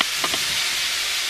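Diced carrots, celery and onions land in hot oil over medium heat, bursting into a loud, steady, bright sizzle with a couple of quick crackles at the start.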